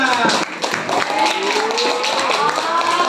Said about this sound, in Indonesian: Oke, tepuk tangan yang lebih keras dong.